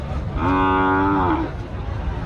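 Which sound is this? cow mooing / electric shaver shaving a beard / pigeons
cow mooing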